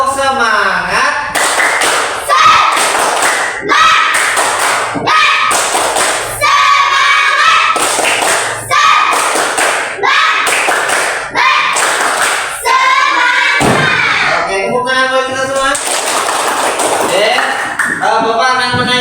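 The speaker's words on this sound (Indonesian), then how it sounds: "Tepuk semangat." Students standing in a classroom perform tepuk semangat, a rhythmic spirit clap of sharp, loud hand claps in patterned bursts, mixed with group chanting voices throughout.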